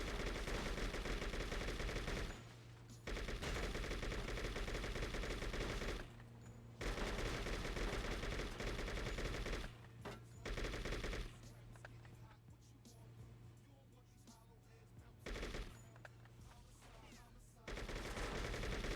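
Bullpup rifle gunfire in True Crime: New York City, loud rapid bursts repeated in long stretches with short quiet gaps between them over a constant game soundtrack.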